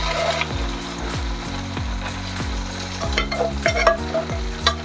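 Beef sizzles and fries in a pan with roasted coconut as a spoon stirs it in repeated scraping strokes, loud and close, with no talking.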